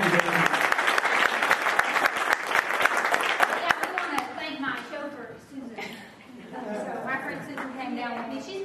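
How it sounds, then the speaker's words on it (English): An audience at a church Super Saturday event breaks into loud, dense applause for several seconds, then fades as a voice speaks over the remaining scattered clapping. "Let's have a nice round of applause."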